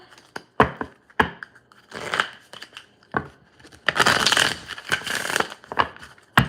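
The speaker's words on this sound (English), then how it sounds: "Let me get one more good shuffle." Oracle cards being shuffled by hand, giving papery riffles and rustles in irregular bursts with a longer, denser flurry near the end, close and fairly loud with no talking.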